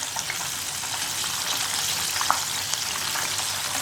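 KFC-style chicken deep frying in oil, a dense, even crackling hiss that holds steady throughout, with a few small pops and no voices.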